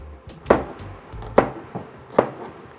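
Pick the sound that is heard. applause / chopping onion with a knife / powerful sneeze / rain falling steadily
chopping onion with a knife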